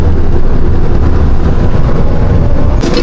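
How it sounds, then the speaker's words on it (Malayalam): A loud, continuous low rumble and rattle of an old tram in Lviv, Ukraine rolling along rails, steady throughout. "അടിപൊളി ട്രാം കേട്ടോ"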